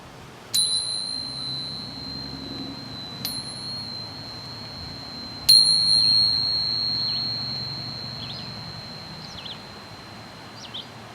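Tingsha chimes rung to clear a space for a meditation: three separate bright, pure metallic strikes, each leaving a long, slowly fading ring, fairly soft and heard alone.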